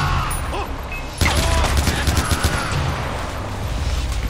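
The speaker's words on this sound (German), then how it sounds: "Na komm, wir ballern einfach." Rapid gunfire bursts out in the video game Far Cry 4, a loud, dense volley of shots that starts abruptly and keeps going to the end, with faint speech beneath it.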